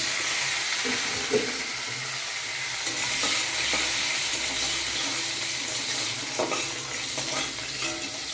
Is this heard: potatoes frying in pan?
yes